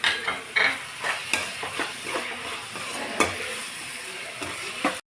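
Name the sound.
stirring and frying masala in a pan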